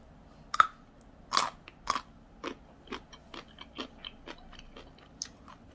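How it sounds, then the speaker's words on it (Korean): A peeled ordinary chestnut is bitten and chewed up close, with a few sharp crunchy bites at first and then a steady run of softer chewing sounds, with no talking. "한번 일반 밤부터 한번 먹어보겠습니다"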